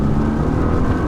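A 2009 Nissan GT-R R35 engine pulls through a light acceleration, giving a steady, loud low-pitched drone heard from inside the car, with no talk over it.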